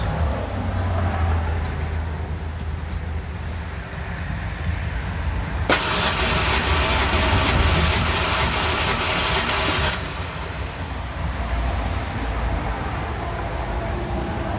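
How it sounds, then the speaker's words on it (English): A Ford Ranger 3.0 engine cranks steadily on the starter during a compression test, a continuous loud mechanical churning. About halfway through, a harsh broadband hiss cuts in for several seconds and then stops while the cranking carries on. "We're gonna go ahead and crank it for a couple more seconds."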